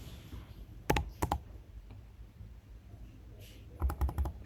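Keys tapped on a computer keyboard while entering SAP ABAP code, two short bursts of clicks near the start and another cluster near the end, close and fairly quiet against a faint room background.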